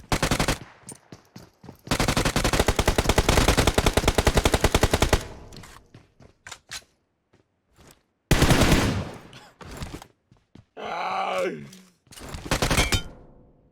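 Pistol fire in PUBG Mobile: loud rapid bursts of shots, one long run followed by shorter volleys, with a voice talking briefly between them.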